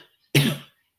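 A single sharp cough, close and dry, bursting out after near silence and fading within a fraction of a second.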